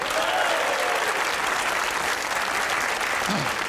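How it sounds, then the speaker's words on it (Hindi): The studio audience of the Hasna Mana Hai talk show breaks into loud, thick applause that fills the whole stretch at an even, sustained level with no pause. "तालियां बजाइए अपने लिए।"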